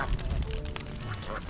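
A flock of ducks quacks continuously in a rice field setting, a dense, overlapping chorus of nasal calls close by, with no clear speech.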